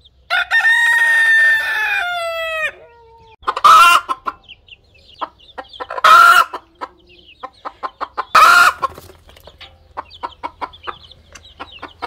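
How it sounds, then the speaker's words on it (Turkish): A mother hen clucks loudly over newly hatched chicks, several sharp, forceful calls spaced out between rapid series of softer clucks and chirps, close by, with a rooster-like drawn-out call at the start. "Anne tavuk şu anda civciklerini kıskanıyor ve hak hak hak diye bağırıyor."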